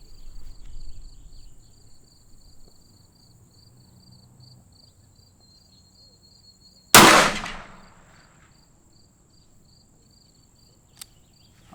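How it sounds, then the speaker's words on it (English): A single sharp, loud shot from a Smith and Wesson 629-4 .44 Magnum revolver with a 6-inch barrel and 2-power scope, fired at a target outdoors. It cracks out after a long quiet stretch of insect chirping and is followed by a short decaying echo. "We're gonna aim for dead center of the target and see where that first shot comes out at."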